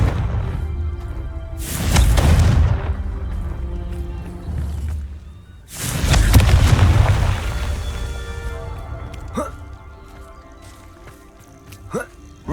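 Two big fiery spell blasts from Hogwarts Legacy boom out one after another, each a loud burst with a long rumbling decay, followed by a few sharp smaller pops.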